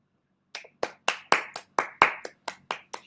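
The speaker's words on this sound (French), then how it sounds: "Ils sont tous en train d'applaudir, je les entends." About ten separate, evenly spaced hand claps from audience applause heard over a live poetry stream, crisp and fairly close, with silence between them and no talking.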